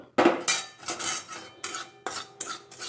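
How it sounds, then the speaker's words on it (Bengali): Semolina being dry-roasted in a pan for a child's meal, heard as a series of sharp metallic scrapes and clinks of a utensil against the pan, repeating in uneven bursts, close and fairly loud, with no talking. "এ সুজি ভাজছি"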